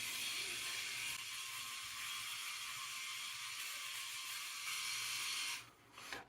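A Philips Norelco 9800 electric shaver runs through a shave, giving a steady, bright buzzing whir with a faint rasp of cutting. It stays constant for several seconds, then cuts off near the end.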